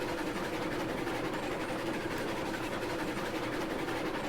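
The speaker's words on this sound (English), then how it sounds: "Watch the whole train go." A train of hopper cars in Railroads Online rolls steadily past up a hill, making a continuous, quiet rumbling wash with no talking.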